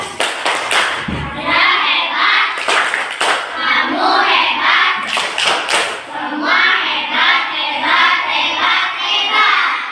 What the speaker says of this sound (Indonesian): Kelompok 1 tepuk hebat.